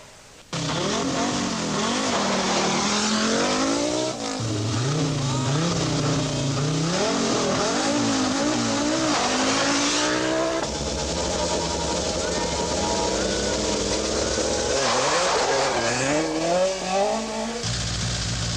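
Rally cars from the 1984 Rally New Zealand run hard on a stage, engines howling and rising and falling through gear changes, with brief tyre scrabble, loud and continuous for the whole stretch.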